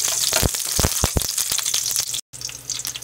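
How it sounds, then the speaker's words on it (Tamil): Whole shallots with curry leaves sautéing in hot oil with mustard seeds, a close crackling sizzle with sharp popping bursts and a brief cut before it resumes, no speech. "ஒரு 10 சின்ன வெங்காயத்தை அப்படியே முழுசாக போட்டுக்கலாம். இதை ஒரு வணக்கி விட்டுறலாம்."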